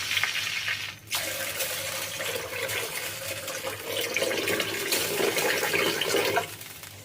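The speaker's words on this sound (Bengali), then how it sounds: "তখন এতে দিয়ে দিতে হবে পরিমাণ মতো জল" Water poured into a pot of browned onions for biryani, a steady close splashing and gushing stream that runs for several seconds before cutting off.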